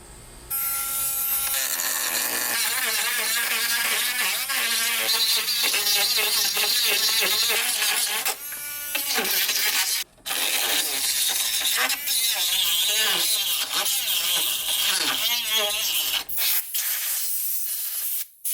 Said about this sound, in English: we're going to grind away at this fiberglass here where the cracks are